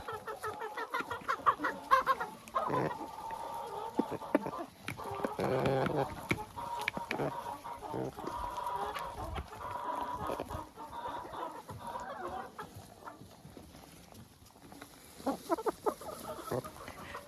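Young hens kept apart from older hens cluck while eating freshly picked grass, a busy chorus of close, overlapping clucks and short calls that continues throughout.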